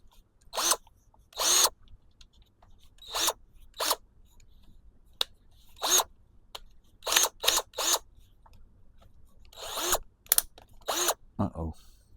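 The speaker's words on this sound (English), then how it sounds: "Gotta drill it out" A brand new drill boring out an arm on an A-1 Skyraider scale model, heard up close as a series of short, sharp whirring bursts separated by quiet gaps, uneven in rhythm.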